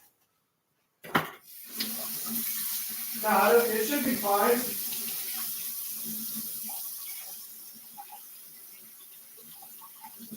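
Utensil rinsed under a hot running kitchen tap while making banana pudding poke cake, a steady wash of flowing water lasting most of the clip, with a short voice over it early on.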